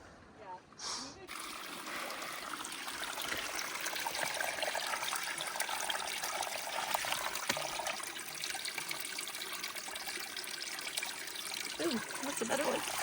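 Water trickling and splashing at a trail water source on the Pacific Crest Trail, a steady close running flow after a brief noise at the start, with no talk over it.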